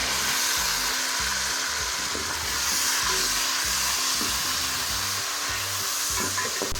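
Sizzling and frying as chopped tomatoes hit golden fried onions in a pan, a loud, steady crackle with broad hiss and faint low rhythmic stirring or thumping throughout.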